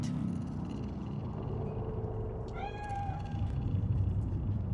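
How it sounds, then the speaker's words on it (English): A cat meows once in the Cyberpunk 2077 city, a clear rising-falling call at mid-distance over a steady low urban rumble, with ambient game sounds before and after. "Fine-looking feline."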